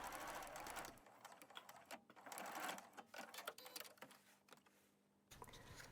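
A sewing machine stitches through three layers of fabric while sewing a jacket, running in quick bursts with short pauses between them, fairly close and alone.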